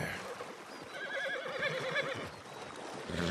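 Horse in Red Dead Redemption 2 gives a whinny in the middle, a wavering high neigh over soft outdoor ambience with faint hoof sounds.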